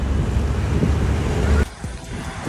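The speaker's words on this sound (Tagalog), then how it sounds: "ang lakas ng hangin." Strong wind roars and buffets the microphone on a road bike ride, loud and steady, then drops off abruptly to a quieter rush near the end.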